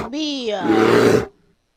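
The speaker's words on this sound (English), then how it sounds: "Bear." A bear gives a single loud, harsh roar lasting about a second, rising into a rough growl before cutting off abruptly, heard alone and close.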